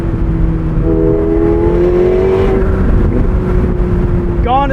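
Steady V8 exhaust drone from a 2024 McLaren 750S with retuned exhaust, its pitch swelling upward briefly then settling, heard up close with a voice talking over it and a quick rising rev at the very end.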